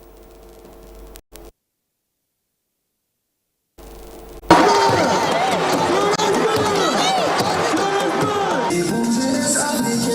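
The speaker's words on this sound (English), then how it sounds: "The crowd, dressed in clothes bearing photos of regime members, chanted the name of junta chief Abdurrahmane Tiani" A crowd at a junta coup anniversary event in a stadium in Niamey. After a faint opening and a moment of silence, a loud, dense mass of many voices rises suddenly and carries on without a break.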